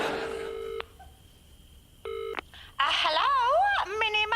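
Touch-tone keypad beeps from a public phone box, a few steady dialing tones in short groups, followed by talk.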